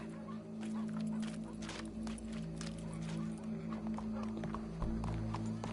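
Horse hooves clip-clop at a walk in Red Dead Redemption 2, steady and fairly close over a low background hum, with no one speaking.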